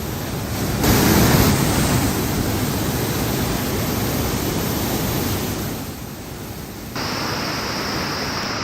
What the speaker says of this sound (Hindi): नानक सागर डैम के भी 4 गेट खोल दिए गए हैं ताकि पानी का तेज बहाव नीचे के इलाकों की ओर बढ़ जाए